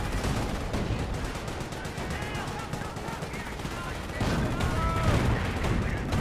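Continuous distant gunfire from Company of Heroes units runs as a steady rattle of small-arms shots over a battlefield din, with a caster talking throughout.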